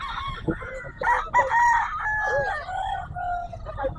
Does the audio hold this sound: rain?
no